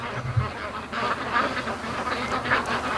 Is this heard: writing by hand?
no